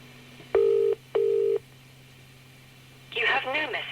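Two steady dual-tone keypad beeps from a 1990s telephone answering machine sound in quick succession, each about half a second long, before a recorded voice prompt starts speaking.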